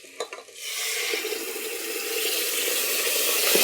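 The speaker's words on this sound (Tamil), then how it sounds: "அடுத்தது நம்ம அரைச்சி வச்ச விழுதெல்லாம் போட்டுக்கலாம்" Ground masala paste going into a hot pan for a mochai and potato kurma, giving a steady, close sizzle and frying hiss with a faint stir at the start that grows gradually louder, no talking.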